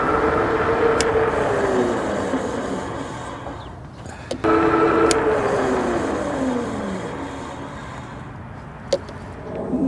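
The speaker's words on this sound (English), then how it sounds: "I'll take it to max speed, and once I come into view, I'll hit the brakes" A Puckipuppy Boxer electric bike speeds past at around 20 mph through a parking lot, a steady motor whine and tyre rumble swelling and fading, with a brief dip midway and a short clack near the end.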